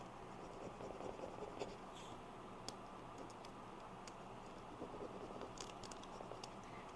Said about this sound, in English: I just laid them all down and now I'm going to rub them on.